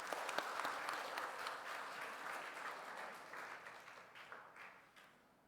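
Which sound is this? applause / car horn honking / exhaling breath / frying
applause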